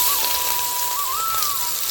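Garlic sizzles in hot oil for a leafy bottle-gourd greens fry, a steady close hiss like heavy rain, with a thin whistling tone wavering over it.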